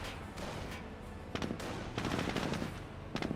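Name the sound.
G43 rifles firing at Jeep in Company of Heroes video game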